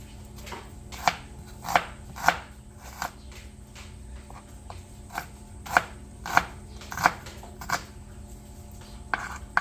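Onions being chopped with a knife on a board in a farm kitchen, a steady run of sharp, close knife strikes at an uneven rhythm, with no talk.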